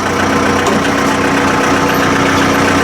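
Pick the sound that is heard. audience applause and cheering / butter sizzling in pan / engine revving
engine revving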